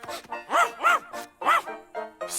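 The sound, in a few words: cartoon dog barking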